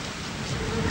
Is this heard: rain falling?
yes